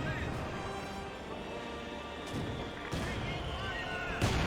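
Artillery fire in the World War II strategy game Company of Heroes 2, a set of scattered booming impacts and short bursts over dense battle noise, with game voices and a commentator talking throughout.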